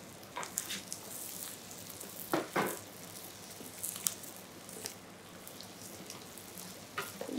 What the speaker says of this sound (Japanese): ここは強火でカリッと焼き上げます。